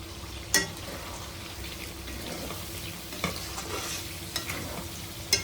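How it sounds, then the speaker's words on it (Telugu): Chicken coated in hand-ground masala fries steadily in a pan, a soft continuous sizzle broken by a few sharp scraping clicks of a spoon stirring it, close by with no talking. "ఇది కూడా ఒక ఐదు నిమిషాలు బాగా ఫ్రై అవనిద్దామండి"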